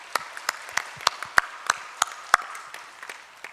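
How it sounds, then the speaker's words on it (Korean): Scattered, sparse handclaps from a church congregation in a Korean service ring out as sharp individual claps, about a dozen spread over a few seconds, fading toward the end. "큰 박수로 한번 격려해 주시기 바랍니다."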